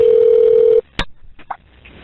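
A telephone tone sounds on a recorded call, a steady electronic tone lasting under a second before a sharp click as the line connects, followed by faint line noise.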